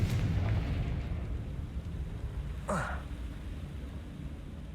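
A Confringo blasting spell goes off in Hogwarts Legacy as a loud explosive burst, rumbling at first and then breaking into a sharp whooshing blast near the three-second mark over steady game ambience.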